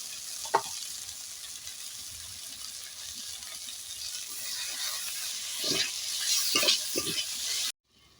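Spice paste of salt and turmeric mixed with water sizzles and fries steadily in a hot pan while a Bengali prawn and fish curry is cooked, with a few sharper stirring scrapes and a louder sputter near the end, no talking.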